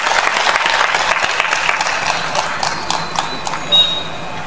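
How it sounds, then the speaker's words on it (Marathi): Crowd applause at a political rally in Akole, a dense, steady wash of clapping that stays loud and continuous throughout, with a few sharper bursts near the end. "त्यांच्यासाठी जोरात टाळ्या वाजवा,"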